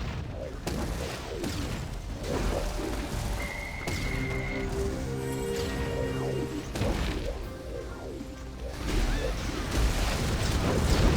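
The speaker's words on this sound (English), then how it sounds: "Gunfire coming over." Gunfire and heavy booms from battle in the online game Panzar keep up steadily beneath constant commentary, with blasts and crashes layered over a dense mix of game noise.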